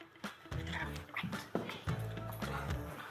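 A dog whimpers, whines and yips close by at an indoor training session, its sounds rising and falling over a few seconds amid background chatter.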